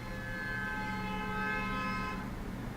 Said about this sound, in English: Did you guys hear that honk? It was really loud.